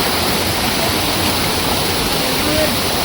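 A small waterfall and mountain stream on a fog-covered Western Ghats trek to Nethravathi Peak, a steady, loud broadband rush of falling and flowing water filling the whole clip with no break.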